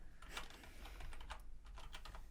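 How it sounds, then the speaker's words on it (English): Rapid typing on a computer keyboard, a continuous patter of close, quiet key clicks with no pauses. "Yeah, Jim, I was typing all by myself. You need to do it on the computer now."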